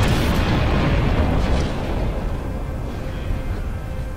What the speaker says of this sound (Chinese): 哦哦，爆炸咯。